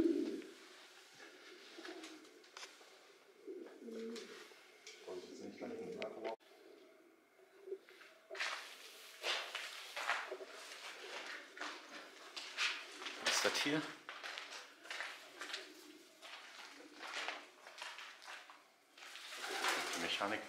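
Pigeons coo and flutter inside an abandoned church with bell mechanics, their calls echoing softly in the large space, with people talking throughout.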